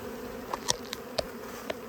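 Honey bees buzz steadily in a low hum during a hive cutout, with a few sharper clicks or taps breaking through now and then.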